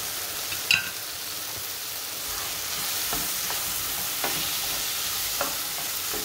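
Food fries steadily in a little oil for a Mexican beef soup, a close continuous sizzle broken by a few sharp spatters and light stirring clicks, with no talking.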